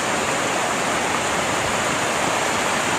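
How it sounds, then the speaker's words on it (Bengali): Heavy rain pours onto a flooded road after a night of downpour, with water streaming down the street in a steady, loud, unbroken rushing wash that fills the whole clip. "আজ যে হারে বৃষ্টি হচ্ছে রোড সারা বুড়ে গেছে পানিতে"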